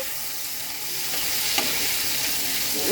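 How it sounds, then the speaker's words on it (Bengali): Chopped onion frying in a pan for prawn curry, a steady loud sizzle with light stirring and one sharp scrape partway through, no talking. "এখন আমি দিয়ে দেব কুচি করা পেঁয়াজ"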